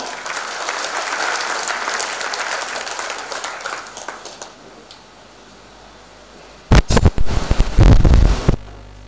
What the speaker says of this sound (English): Shall we give presenters a big round of applause?